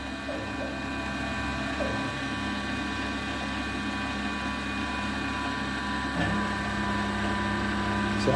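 A PM-728VT CNC mill facing off a surface, taking a light pass of about half a millimeter: steady loud machine whine with constant tonal hum and a shift in pitch near the end, no talking.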